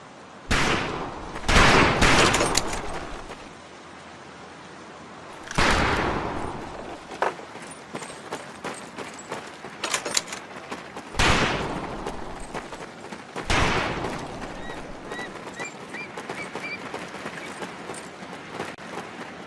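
Rifle gunfire on a shooting range in the video game Medal of Honor: Pacific Assault, with loud sharp shots and volleys repeating at irregular intervals through the stretch, no talk.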